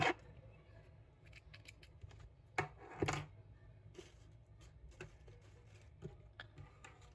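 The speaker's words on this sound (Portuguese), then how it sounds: "Chegou aqui no último, você já vai cortar o seu fio." Scissors snipping crochet yarn while making a mermaid bikini, a few quiet sharp clicks and cuts spaced over several seconds against a low, hushed background.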